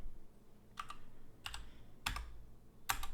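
Computer keyboard typing a terminal command while working on a Next.js app, heard as four short separate bursts of keystrokes spaced about half a second to a second apart, clear and close with no talking.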